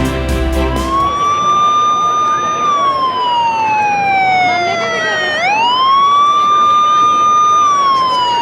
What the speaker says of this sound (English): You just heard those sirens.